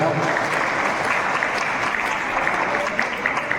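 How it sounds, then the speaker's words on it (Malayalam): An audience at a fine arts society's annual general meeting claps steadily for an honoree, a continuous mass of hand claps filling the hall, with a voice talking over it. "കൈയടിയോടുകൂടി നമുക്ക് ആദരങ്ങൾ അർപ്പിക്കാം."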